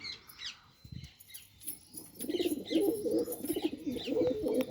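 Pigeons in a breeding loft give low, repeated cooing that swells and overlaps in the second half, with a brief wing flutter and faint chirps earlier on.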